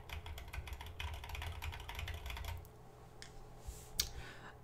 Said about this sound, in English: That sound you're hearing is my switches bottoming out.